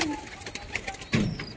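Jhamar pigeons coo in a few short, close bursts with a brief swell near the end, over a busy loft with faint bird noise.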